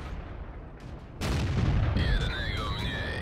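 A single deep StuG III G tank cannon boom in World of Tanks erupts after a quiet stretch, followed by ringing, whining game effects.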